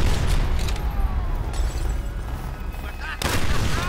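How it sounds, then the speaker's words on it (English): Gunfire and blasts from a fuel tank explosion on the battlefield of Call of Duty: World at War, a dense continuous barrage of shots and booms, with a fresh loud burst near the end. "Exploding the fuel tank."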